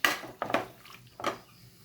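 Pork adobo is stirred in a cooking pot with three quick metallic scrapes and knocks of a utensil against the pot, close and fairly quiet, with no talking.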